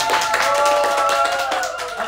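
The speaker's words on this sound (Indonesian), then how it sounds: "Opra, tepuk tangan." Audience clapping at a casual Christmas-themed talk show taping, with steady clapping blended with tonal voices or music and possible cheering over the top.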